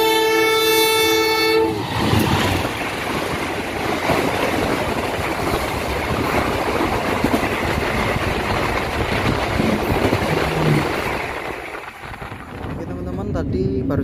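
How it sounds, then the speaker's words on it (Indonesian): The Sri Tanjung passenger train pulls away from Krian station, opening with a loud horn blast, then a steady rumble and clatter of wagons rolling past up close, fading toward the end as a voice speaks. "Tadi baru saja kereta api Sri Tanjung meninggalkan stasiun Krian"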